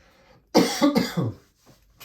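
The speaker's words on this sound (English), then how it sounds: "Excuse me while I clear my throat for a second here." A man clears his throat in two or three quick, close, fairly loud rasping bursts, alone with no talk around them.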